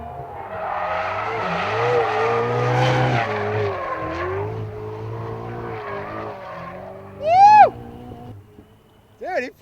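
A brand-new Ferrari 488 is driven hard, its engine note climbing and falling under loud talk, followed by two sharp bursts of tire squeal near the end.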